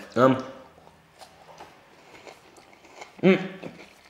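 ALDI creme wafers are chewed at close range, giving two distinct loud crunching bites several seconds apart with softer crackly chewing between, mixed with bits of talk.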